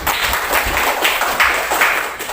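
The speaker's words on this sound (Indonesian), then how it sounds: "tepuk tangan dulu untuk kita semua." A classroom of students claps hands together for everyone, a steady dense patter of clapping filling the room at close range with no talking over it.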